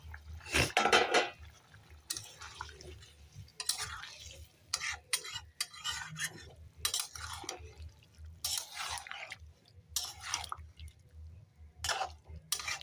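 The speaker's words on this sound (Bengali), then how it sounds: "আমি এখন ফুলকপিটা ঢেলে দিই" Cauliflower tipped into bubbling spiced oil for a dry Bengali vegetarian curry, heard as a series of clattering pours, scrapes and wet stirs against the pot, close and uneven, with a faint voice now and then.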